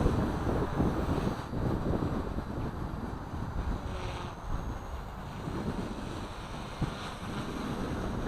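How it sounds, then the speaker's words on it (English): Wind blows steadily outdoors in a dense, rumbling, buffeting roar across the microphone that keeps going without a break and has no talking. "The wind's died down just a little bit now. So it still makes noise."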